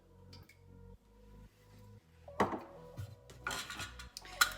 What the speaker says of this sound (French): Je mets le couvercle.